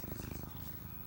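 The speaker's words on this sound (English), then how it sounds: "Susie, I hear your purr box." A close, steady purr rumbles in a soft rhythmic pattern for about a second.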